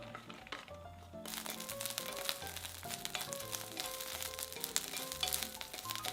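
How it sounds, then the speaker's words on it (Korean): Cut shishito peppers stir-fried in oil in a pan, a bright crackling sizzle that starts abruptly and runs continuously, with light stirring rustles and faint background music beneath. "팬에 기름을 두르고 잘라놓은 꽈리고추 넣고 1분 정도 볶아주세요"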